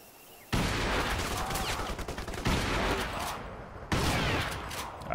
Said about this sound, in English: Sorry, I missed those first couple of shots.